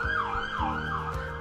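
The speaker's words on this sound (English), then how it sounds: "pardon that siren" An emergency siren outside wails up and down in a repeating sweep, close and fairly loud, with engine rumble beneath it and no talking.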